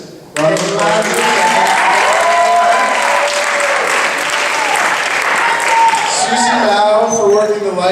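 Loud audience applause for the judges at the Mr. Touro 2011 pageant, sudden onset of dense clapping sustained for several seconds, with voices and whoops mixed in.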